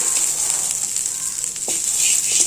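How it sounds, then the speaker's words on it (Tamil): Tulsi, karpooravalli and betel leaves sautéing in a pan, a steady bright sizzle with a couple of faint clinks of the utensil. "பாருங்கள், துளசி, கற்பூரவள்ளி, வெத்தலை 3ம் கிள்ளி போட்டு இதிலே வதக்கியாச்சுங்க."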